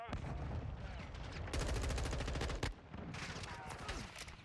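An M4 rifle fires in Modern Warfare 2, rapid automatic bursts crackling loudly and continuously, with a brief pause before more shots, close to the player.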